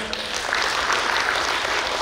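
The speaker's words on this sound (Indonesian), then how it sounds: "Tepuk tangan untuk Pak Yudi." A meeting audience claps for a donor, a thick, even wash of many hands applauding throughout the room, sustained and fairly loud with no talking.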